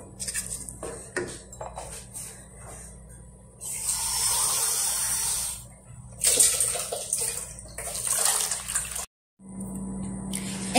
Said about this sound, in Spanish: Y vamos a añadir aquí una taza de agua más.